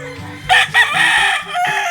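A rooster crows loudly and close by, a drawn-out strained call lasting most of the moment, with faint background noise around it.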